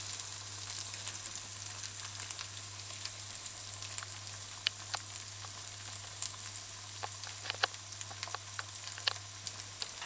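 An egg fries in a pan on a stovetop, a steady, close sizzle with light crackling pops scattered through, continuous and without talk.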